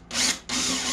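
A power drill with a 5/16 bit whirs steadily in two bursts boring into a bus fuel tank, a brief dip between them, loud and close with a bright grinding edge.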